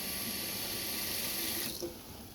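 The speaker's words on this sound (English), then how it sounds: "once you turn on the tap, the pump automatically kicks in" Tap water runs steadily in a Carado T447 campervan as the onboard pump drives the flow, a close broadband rush that cuts off sharply near the end, leaving a quieter hum.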